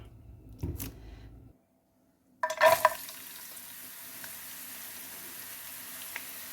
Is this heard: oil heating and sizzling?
yes